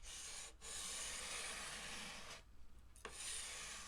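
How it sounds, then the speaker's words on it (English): Guitar fretboard being sanded with 220 and 320 grit sandpaper, soft close rasping strokes across the wood with two brief pauses between passes. "Go over the whole area with some 220 and some 320 grit sandpaper."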